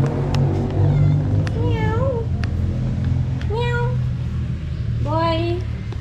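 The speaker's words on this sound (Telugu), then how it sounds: "క్యాట్స్" Cats meow repeatedly near a roadside stop along a drive, several rising and falling cries spaced over a steady low engine rumble, with a voice briefly speaking.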